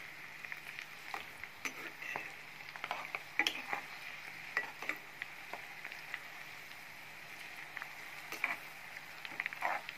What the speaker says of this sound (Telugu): ఇలా అప్పుడప్పుడు ఇలా కలుపుతూ ఉండాలి.